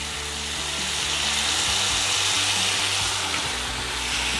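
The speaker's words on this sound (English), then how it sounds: "Now we're going to add the balsamic vinegar. Be careful, you don't want it to splatter up on you." Balsamic vinegar hits a hot pan while making a warm garlic balsamic vinaigrette, producing a loud, steady, hissing sizzle with small crackles throughout and no voices.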